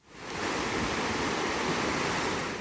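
Water roars in a broad, steady rush at the swollen Racibórz Dolny flood reservoir, rising quickly in the first half-second and then holding as a dense, loud wash.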